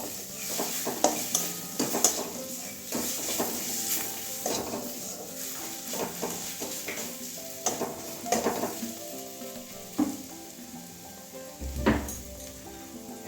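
Turmeric powder is stirred into a frying egg curry of capsicum and potato in a pan: a soft background sizzle broken by repeated scraping strokes and sharp clinks of a spoon against metal, close and uneven in rhythm.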